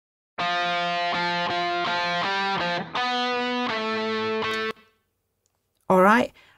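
A sustained electric lead guitar plays a few long, bright notes with a lingering ambient wash, then stops; a short vocal sound follows.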